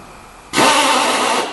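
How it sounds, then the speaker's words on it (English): A drill with a grinding collar cuts down a TPMS tire valve stem, bursting in loudly after a short quiet moment and holding a steady, harsh grinding whine. "Now we're going to drill it down a little bit further."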